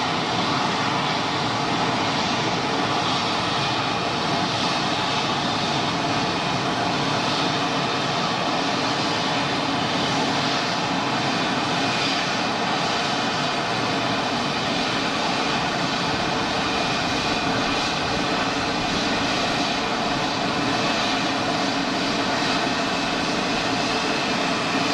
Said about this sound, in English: I want to see this EasyJet 220 that's on a few miles final